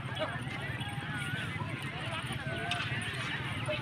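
A children's pony ride at a busy riverside outing, with hooves clip-clopping faintly and steadily under constant crowd noise and nearby voices talking.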